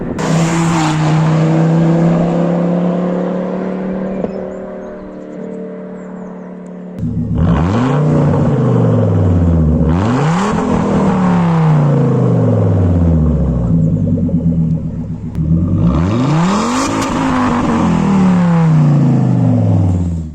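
A Volvo V70 R with its five-cylinder engine spins its wheels in second gear, producing a loud, droning engine note that rises and falls in repeated revving surges, with tyre scrabble and no talk.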